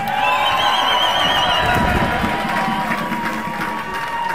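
Crowd at an outdoor korfball national championship cheering and applauding as players are welcomed, loud clapping and shouts with music tones and an announcer's voice over the noise.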